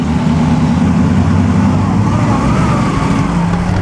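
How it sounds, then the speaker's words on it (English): An 8-cylinder Alfa Romeo race car at the Mille Miglia sends out a loud, continuous low engine rumble up close, thick with steady throaty roar and surrounding street noise. "here's an 8-cylinder Alfa Romeo"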